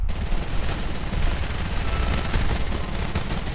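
Dense, continuous automatic gunfire crackles in a PS4 shooter game, a loud rapid fusillade that runs unbroken from start to finish with no pauses or voices.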